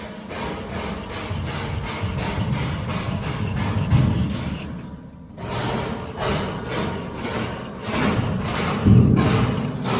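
A thin metal shim scraping a year's buildup of soot off a maple syrup evaporator pan, a steady rough rubbing and rasping that continues in close repeated strokes with a brief pause midway.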